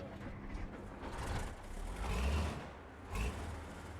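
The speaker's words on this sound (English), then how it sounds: "I do like how this truck sounds." Longhorn 3194 truck engine in the SnowRunner game, a steady heavy diesel rumble that swells and eases across the stretch, close and fairly loud with no talk over it.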